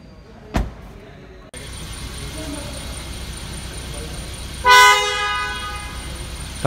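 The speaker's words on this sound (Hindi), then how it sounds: "काफ़ी पावरफुल हॉर्न है।" A single loud Mercedes-Benz A-Class car horn blast rings out near the end, after a sharp thump and steady background hum, close and brief with no speech over it.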